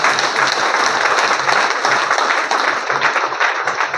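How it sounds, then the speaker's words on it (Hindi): A live audience claps hard and steadily for a product being presented, a dense, even wash of many hands that stays loud for the whole stretch with no pauses. "एक जोरदार तालियां हो जाए 3 प्रोडक्ट के लिए"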